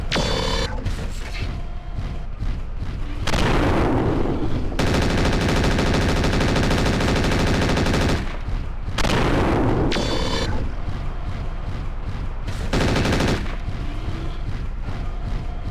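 Mech machine guns fire in MechWarrior 4: Mercenaries in loud, dense sustained bursts. The bursts alternate with booming weapon impacts and mechanical noise, and no one speaks.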